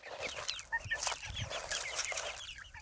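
Chickens cluck and chatter in short, irregular bursts, several birds close by over a steady background hum.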